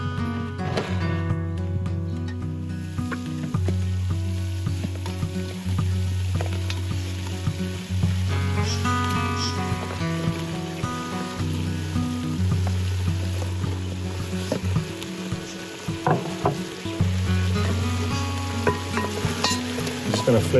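Baby potatoes frying with browned onions in a potjie pot, a steady sizzle with occasional stirring scrapes, under a continuous low musical hum.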